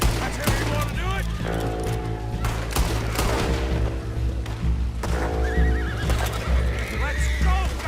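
Horses neigh and whinny repeatedly amid hoofbeats and bursts of gunfire during a town bank robbery in Red Dead Redemption 2, with a dramatic music score and spoken voices over the din.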